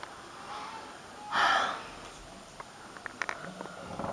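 One person gives a single drawn-out breathy yawn lasting about half a second, with faint breathing and small mouth noises following close by.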